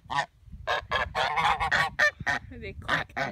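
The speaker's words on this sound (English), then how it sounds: "Look at the geese." Geese honking close by in a quick series of loud, nasal calls, some overlapping, with brief gaps between.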